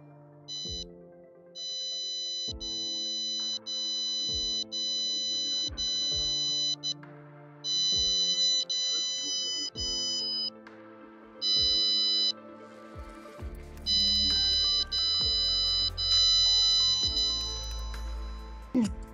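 An Oraimo OpenPods OPN50D earbud plays its find-me alert as repeated electronic tone sequences in regular bursts, several loud pulsed chimes with brief gaps, close and alone with no speech.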